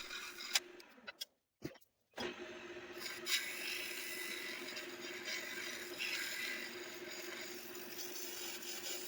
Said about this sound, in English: I sanded the entire top section down from 60 to 320 grit